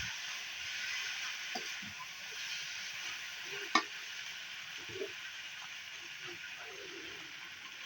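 Noodles being stir-fried for chowmein in a pan over a clay stove, a steady soft sizzle and hiss with light scraping stirs and one sharp clank, moderately close, no talking.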